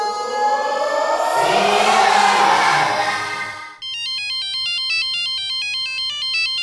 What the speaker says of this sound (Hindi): रात को कौन फोन कर रहा है यार?